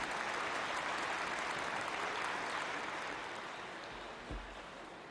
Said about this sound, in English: Let us welcome ourselves with a big round of applause.